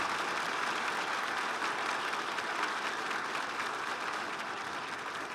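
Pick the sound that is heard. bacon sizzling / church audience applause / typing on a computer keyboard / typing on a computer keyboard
church audience applause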